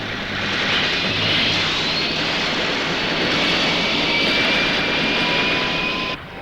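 An airplane engine drones loud and close in a sustained jet-like roar with a thin rising whine, holding steady before it drops off abruptly at the end.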